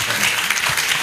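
Short burst of steady, dense applause from the audience at a Rotary Club meeting, a crowd clapping loudly throughout the moment.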